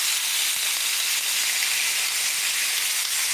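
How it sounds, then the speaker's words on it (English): Cheesesteak meat frying on a hot griddle gives off a loud, continuous sizzle, a dense steady hiss with no pauses and no talking. "So yeah, got some sizzle going."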